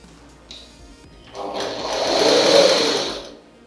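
Sewing machine stitching along the folded edge of a fabric opening piece, a steady whirring run that swells louder midway and then tapers off, with a brief light start before the main burst.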